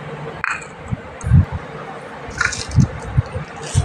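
Chopped cabbage is mixed by hand with coriander powder and rice flour, giving soft, wet squishes in a few separate bursts, with faint clinks and a voice talking between them.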